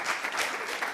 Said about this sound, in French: Merci des applaudissements.